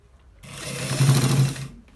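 An electric sewing machine runs in one continuous, loud burst of rapid stitching on a shirt collar, starting abruptly and stopping cleanly after about a second and a half.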